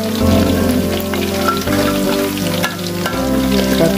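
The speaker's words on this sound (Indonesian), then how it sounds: "Ini teman-teman, kita jengkolnya digoreng." Jengkol beans frying in hot oil for sambal, a loud, steady, close sizzle with crackling pops running throughout and no talk.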